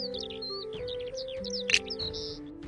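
Short high bird chirps and tweets repeat over a steady sustained musical tone, with a brighter sharp chirp near the middle; a little bird added as a finishing touch to a LEGO cave scene.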